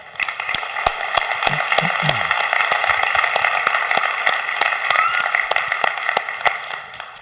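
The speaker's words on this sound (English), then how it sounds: "Let's give all of them another round of applause" Sustained applause from a conference audience at a retail technology industry general session, steady dense clapping filling the hall for several seconds with no talk over it.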